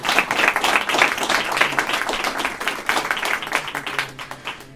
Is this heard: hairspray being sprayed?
no